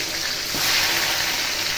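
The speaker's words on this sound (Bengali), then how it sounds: "তেলটা গরম হয়ে গেছে, এখন আমি একটা একটা করে বেগুনগুলোকে দিয়ে দিচ্ছি।" Brinjal slices are laid into hot oil one by one and fry with a steady, fairly loud broadband sizzle that swells slightly midway and carries on evenly.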